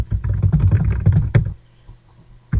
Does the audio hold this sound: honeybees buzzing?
no